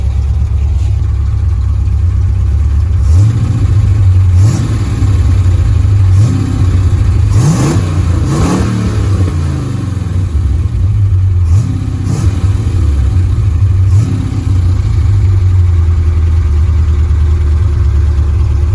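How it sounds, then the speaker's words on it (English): A loud, badly out-of-tune 1953 Jeep CJ3B engine idles roughly and steadily, revving up briefly in the middle before settling back to its throaty, uneven rumble. "How many of your CJ3B sound like that? It needs a real good tune-up."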